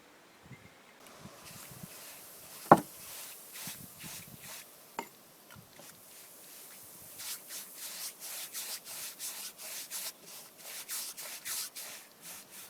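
Leftover mortar being scrubbed off old reclaimed floor bricks with hydrochloric acid: quiet, steady rhythmic rubbing strokes with a couple of sharp knocks, growing more regular toward the end.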